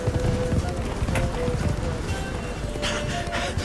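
Rapid hoofbeats of a galloping horse in The Witcher 3: Blood and Wine, steady and close, under ambient game sound and brief voices.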